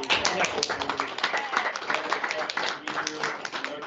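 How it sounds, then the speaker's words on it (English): An audience at a board meeting gives a round of applause, a lively mix of close, distinct hand claps with a few voices murmuring underneath, fairly loud and steady throughout. "I really wanted to give another round of applause to the group back there."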